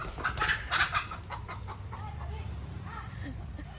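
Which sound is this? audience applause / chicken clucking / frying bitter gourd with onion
chicken clucking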